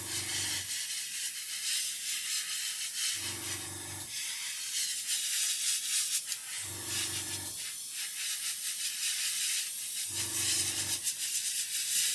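An airbrush sprays paint onto the tail wheel of a 1/48 Airfix Sea King model kit, giving a steady close hiss broken by four short regular pauses as the trigger is released.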